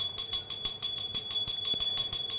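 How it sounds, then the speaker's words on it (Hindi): A small hand bell rings rapidly and continuously during a Hindu home worship food offering, bright metallic strikes in a fast even rhythm, close by with no talking. "जब भी हम अपने ठाकुर जी को भोग लगाते हैं तो घंटी बजानी ज़रूरी होती है।"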